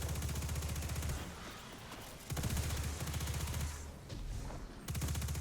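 Rapid gunfire from a Destiny-style shooter game during the Ascendant Challenge, with steady, dense bursts of automatic fire that ease off briefly and then pick back up, running continuously throughout.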